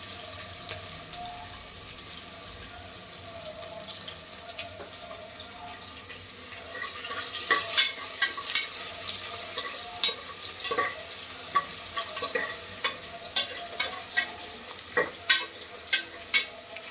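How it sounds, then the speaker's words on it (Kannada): Onion and ginger-garlic paste fry on a low flame in a pan for ghee rice with veg kurma, giving a steady soft sizzle, with scraping stirs that grow louder and more regular in the second half. "ಇವಾಗ ಉರಿನ ಸಣ್ಣ ಮಾಡಿಕೊಂಡು ಈರುಳ್ಳಿ, ಶುಂಠಿ ಬೆಳ್ಳುಳ್ಳಿ ಪೇಸ್ಟ್ನ ಹಾಕೋತಾ ಇದ್ದೀನಿ."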